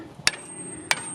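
A hammer strikes metal twice on a junkyard Chevelle being revived after 40 years. The two sharp, ringing impacts are spaced about half a second apart and are heard close and alone.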